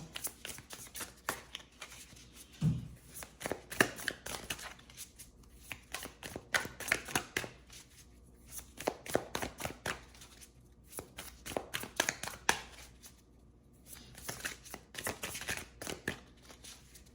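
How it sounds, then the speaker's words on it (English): Tarot cards being shuffled over and over, soft papery riffles and slaps coming in uneven bursts with brief pauses, close and fairly quiet. "While I'm shuffling"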